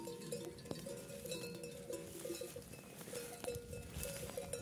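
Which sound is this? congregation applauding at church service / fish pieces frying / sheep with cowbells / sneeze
sheep with cowbells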